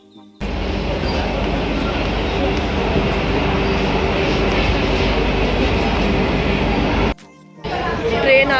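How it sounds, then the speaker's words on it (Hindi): A train pulls into a station platform on a trip from Pune to Rajasthan, a loud sustained rumble and rush that runs steadily for several seconds, drops out briefly, then returns, with no voices over it. "ट्रेन आ रही है"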